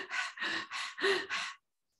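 A person performs Swan Pranayama, the panting dog breath, with five quick, forceful breaths in an even rhythm, close and clear, then silence.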